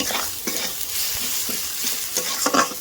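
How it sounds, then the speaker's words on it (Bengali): Ginger garlic paste frying in a small amount of oil for a fish curry, a steady close sizzle with repeated scraping stirs over it and no voices. "আদা রসুনের কাঁচা গন্ধ যতক্ষণ না যায় ততক্ষণ পর্যন্ত কি আদা রসুনটা ভাজতেই থাকবে"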